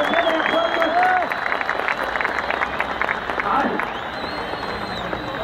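Crowd in a mosque clapping and cheering, loud dense applause throughout with shouts and voices over it, easing slightly toward the end.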